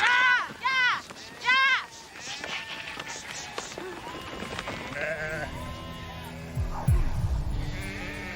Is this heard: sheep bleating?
yes